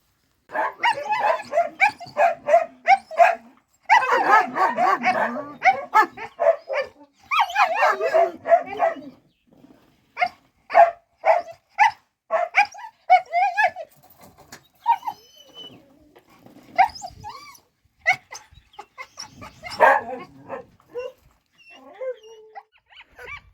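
West Siberian Laika hunting dogs in Ukraine bark in repeated close bursts, mixed with yips and whimpers, with short quiet gaps between volleys.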